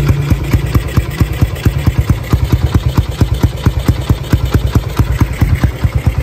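A Honda CB motorcycle engine, freshly serviced with new oil, idles close up with a steady, even chugging pulse of regular firing beats and no talking.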